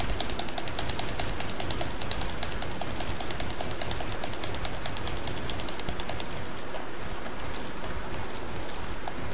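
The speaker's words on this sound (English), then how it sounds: "Just start spam clicking so hard." Rapid spam clicking, a dense, fast and continuous stream of small clicks at an even level that runs without a break.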